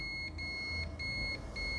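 A multimeter gives a continuous continuity beep while probing a capacitor on a Samsung Galaxy F23/M23 phone board under repair. The steady high electronic tone is loud and close, with a few brief dips.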